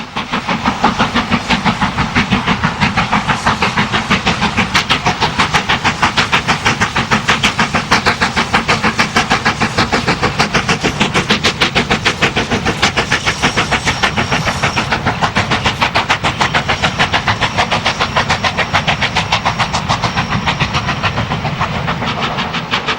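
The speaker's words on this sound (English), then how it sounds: "The loco appears again on the extended mainline portion of the moors at Slates" Stanier steam locomotive 45428 works along a moorland mainline with a steady, rapid exhaust beat and rolling clatter. It runs loud and close, unbroken for the whole stretch, with no voices.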